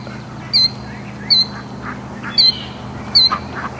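Young ducks quack in four short, sharp calls spaced roughly a second apart over steady outdoor background noise near a swamp, fairly close and clear.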